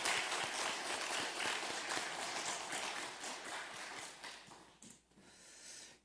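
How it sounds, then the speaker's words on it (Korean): Congregation applauding in a church after a Sunday worship choir and praise team finish singing, a dense, steady patter of many hands that thins and fades toward the end. "우리 할렐루야 찬양대 주일 경배 찬양팀 축복하고 격려하는 박수 하겠습니다."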